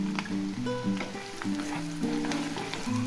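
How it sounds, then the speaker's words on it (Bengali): Sliced onion and green chilies fry in hot oil in a pan with panch phoron, a steady sizzle running under a mix of tonal background sounds, with no voices present. "পেঁয়াজটা ভাজা হয়ে গেছে,"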